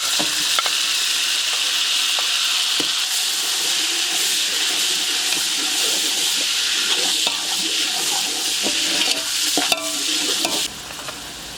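Tomatoes going into hot cooking oil with chopped onions and garlic for a chicken mandi, giving a loud, continuous sizzle and crackle with occasional stirring clatter, close up and without talk.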